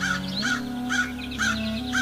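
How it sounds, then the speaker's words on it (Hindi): Crows caw loudly and close by, four or five harsh rasping calls in a steady rhythm over a constant low hum, with no talking. "उसमें से एक छोटा सा कौवे का बच्चा बाहर निकला।"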